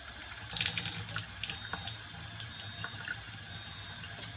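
Strongly acidic water with a pH of 2.5 running from a tap into a sink, a steady close splashing stream with fluctuating spatter, no talking.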